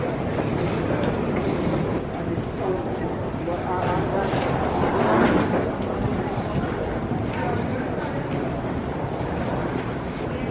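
JFK AirTrain at Terminal 4 running toward Howard Beach, a steady loud rumble with rolling track clatter throughout, voices faintly under it.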